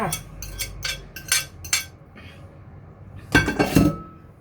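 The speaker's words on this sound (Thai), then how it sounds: "ใส่มันฝรั่งลงไปในกระมัง เราจะทำการผสมแล้วนะคะ ผสมแป้งจ้า" Potatoes being mixed with flour in a bowl, with sharp clinks and scrapes of utensil against the bowl in quick bursts, a pause, then a louder cluster of clattering taps.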